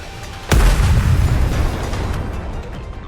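Missiles fire and explode in the video game Goddess of Victory: Nikke, a sudden loud boom that decays into a long, rumbling low-end roar of blasts and debris.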